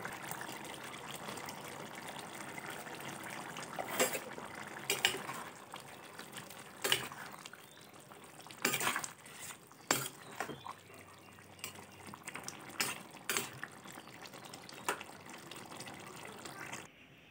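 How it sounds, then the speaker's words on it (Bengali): Jackfruit curry gravy bubbles in a pot, a steady wet simmer with scattered louder pops and bursts every second or two, fairly close and with no voices. "ঢাকাটা তুলে দেখে নেব, ঝোলটা ফুটে গিয়েছে"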